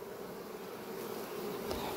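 Honey bees in an open low-frame hive on a full brood nest give a dense, continuous buzzing hum, steady and fairly faint, with no voices.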